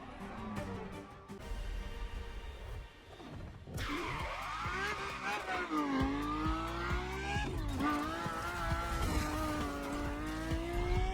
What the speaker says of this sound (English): This was the F50, a sports car that screams performance and racing spirit with every fiber of its being.